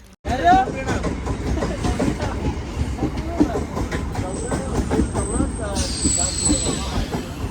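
Train running through Vasai railway station, a steady rumble and clatter of wheels throughout with a high squeal or brake hiss late on, while people talk over it nearby.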